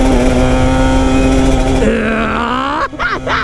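Motorcycle engine revving hard while being ridden through a corner, from a comparison of a 250cc NSR250R two-stroke and a VTR1000SP2 big bike; a loud, sustained high-pitched drone that rises in pitch, then briefly dips and surges again.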